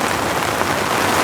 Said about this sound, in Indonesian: Di saat ini ada cuaca yang sedang hujan yang deras